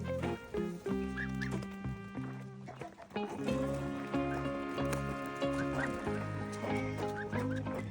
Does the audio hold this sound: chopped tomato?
no